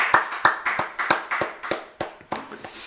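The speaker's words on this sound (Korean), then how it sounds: "하나님께 영광의 박수 올려드립니다." A church congregation claps together in a steady, evenly spaced rhythm of about ten sharp claps, close and clear with no talking.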